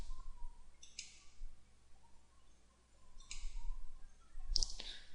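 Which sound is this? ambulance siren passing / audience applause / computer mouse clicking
computer mouse clicking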